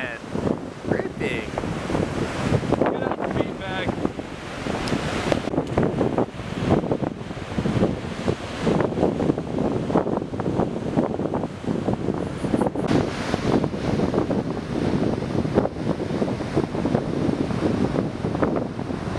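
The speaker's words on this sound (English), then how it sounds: "It's windy." Wind buffets the microphone in loud, constant gusts of rumbling noise, with a voice faintly heard through it.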